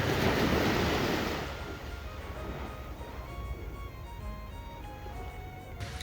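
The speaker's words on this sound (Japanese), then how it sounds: "なんか波の音も独特ですね" Loud surf crashes at first, then settles into a softer, steady wash of waves rolling in nearby on the coast at Ashiya, Fukuoka, Japan, with no talking.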